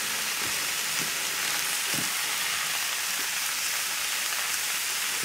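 Onions and mushrooms fry over a high flame in olive oil, a steady dense sizzle with crackling hiss throughout, close and loud, with faint thumps of stirring underneath.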